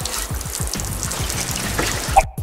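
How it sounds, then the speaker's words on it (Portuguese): Water gushes from the hose of a model fountain raised to boost pressure, splashing continuously over a rapid low rhythmic throbbing, close by and fairly loud before a sudden drop near the end. "fazendo a água jorrar bem alto"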